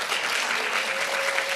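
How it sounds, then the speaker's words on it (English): An audience at a gender-equality conference session applauds, a steady, dense wash of many hands clapping at once, even in level and heard alone without voices. "give them a big round of applause now"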